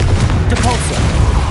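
A Confringo spell blast in the Hogwarts Legacy video game, heard as a short, loud burst of thudding booms and crackling impacts over a low rumble, with brief chatter-like tones mixed in.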